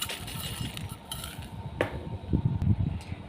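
Sun-dried vegetables being mixed by hand in buttermilk with salt for mor vathal, producing soft, wet sloshing and stirring along with light clinks of a utensil against a vessel.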